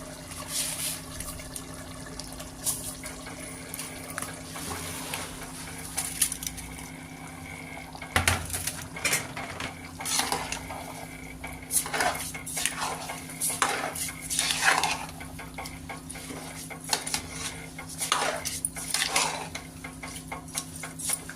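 Metal utensil scraping and clinking against a pot while soaked rice is stirred in for mutton biryani, with wet stirring sounds, steady and close throughout, no voices.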